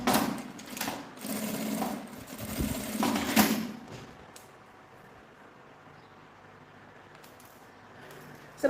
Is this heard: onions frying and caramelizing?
no